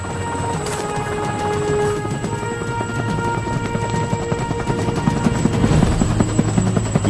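A helicopter flies over the Caribbean coast, its rotor thudding loudly and steadily throughout with a constant engine whine, no voices present.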